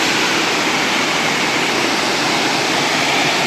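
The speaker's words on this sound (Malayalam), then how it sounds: "ഇതാണ് വെള്ളച്ചാട്ടം" A small waterfall in a cool forest setting roars as a dense, unbroken rush of falling water, loud and close, filling the whole stretch with no other sounds.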